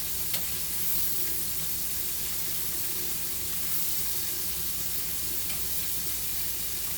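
Pork chop strips fry in a pan with a steady, even sizzle that continues unbroken throughout, moderately loud and close, with no voices.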